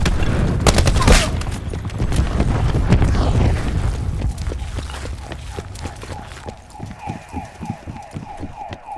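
A grenade explodes in Call of Duty: Black Ops 4: a loud, close, broadband blast near the start rolls into a dense rumble, followed by scattered game effects, bursts of fire and faint tonal cues.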